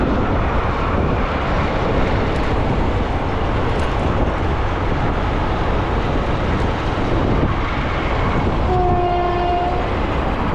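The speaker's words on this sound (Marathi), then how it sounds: "ट्रेन बघा." A fast passenger train rushes past near a railway station in a loud, continuous roar, and a horn sounds briefly near the end.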